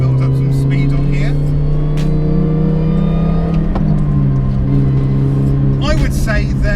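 A Mini Cooper S R53 engine drones steadily and close as the car builds speed, a strong sustained hum with a voice talking over it.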